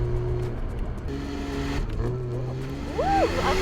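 A Porsche sports car's engine and exhaust in Sport Plus mode drone low and steady, then rev up sharply near the end with a rising, throaty roar.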